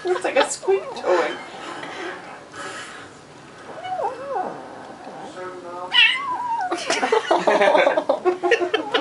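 A kitten makes repeated high, squeaky mewing noises while eating its food, the cries rising and falling in short bursts, with people laughing and talking nearby.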